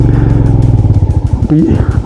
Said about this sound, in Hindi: ये है ब्लैक आइस। और इस पर बाइक चलाना बड़ा मुश्किल होता है